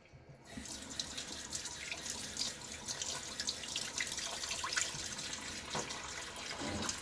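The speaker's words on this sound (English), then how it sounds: "A little water on my face." Water runs and splashes at a bathroom sink during a wet shave, a soft steady faucet stream with faint splashing and drips, quiet and close, with no talk.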